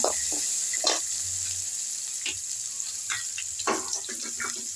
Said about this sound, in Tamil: டப்புன்னு வெங்காயம் போட்டு விடணும் காஞ்ச மிளகாய் போட்டு விடணுங்க